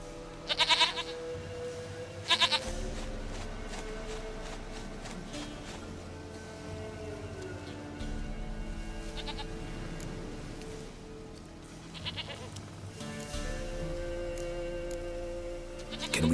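Goat bleats in The Witcher III video game: two sharp bleats near the start and another pair later, heard over a steady bed of in-game music and ambience.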